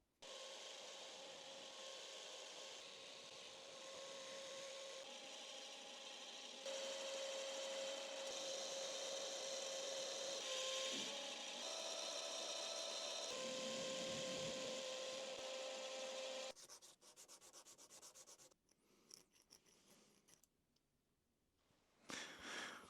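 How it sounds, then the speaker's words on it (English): Steady rasping abrasion on a cast metal hand plane body, near and continuous for most of the clip with a faint tonal ring, then breaking into sparse scrapes and knocks toward the end. "I had to do a wee bit of filing in there because the casting was just all over the place"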